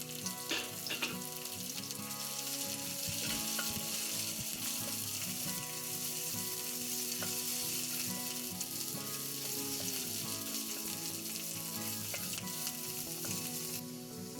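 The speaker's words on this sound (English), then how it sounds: "Now we're going to add carrots and stir those around." Carrots stir-fry in a hot pan for a vegetable noodle dish, a dense, steady sizzle with occasional scrapes and stirring clatter, close and continuous throughout, with no talking.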